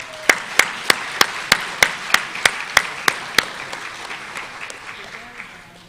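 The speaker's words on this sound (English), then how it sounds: "So let's give these guys a round of applause." Audience applause at a middle school sports awards ceremony: a dozen sharp, evenly spaced nearby claps over a softer crowd clapping that thins out and fades.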